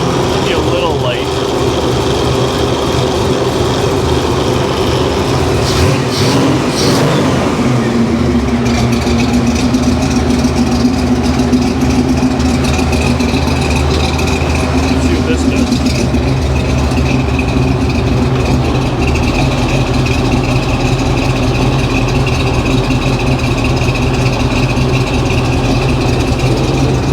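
A supercharged car engine idles low in gear with a loud, constant rumble and steady whine, continuing without a break for the whole stretch.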